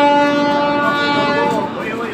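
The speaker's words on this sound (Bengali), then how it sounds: "আর ট্রেন এইদিকে ছেড়ে দিয়েছে" A passenger train pulling out of a station, a loud sustained horn-like tone with rumbling wheels and carriage noise, close by, easing slightly toward the end.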